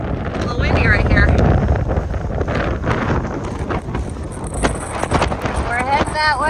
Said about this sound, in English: Ooh, a little windy right here.